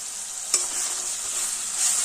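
Onion paste with turmeric frying in oil in a pan gives a steady, bright hiss of sizzling with a brief clack of stirring near the start, close and alone without talk.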